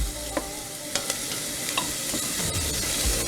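Ginger, garlic and onion sizzle in a pan while a utensil stirs them, producing a continuous close crackle broken by sharp scraping clicks every half second or so, with no talking.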